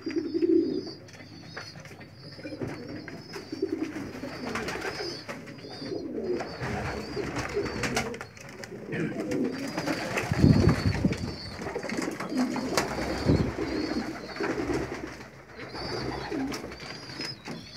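Pigeons coo softly and repeatedly at close range while feeding their squabs, with faint rustling and a few sharper bursts of movement, and no talk.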